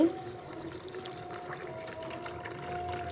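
Water poured steadily over 250 grams of lentils in a home kitchen, a continuous soft trickling and splashing stream with a faint hum beneath.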